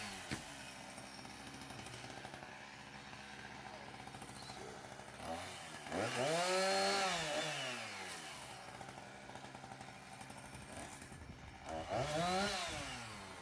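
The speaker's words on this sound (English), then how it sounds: "Check out the one-handing the chainsaw." A chainsaw cutting tree limbs drones steadily, then revs hard twice as it bites into wood, the engine rising and falling against a constant idle.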